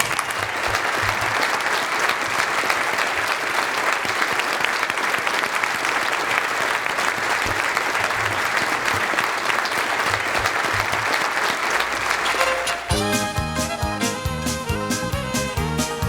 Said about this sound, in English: Please give him a standing ovation right now.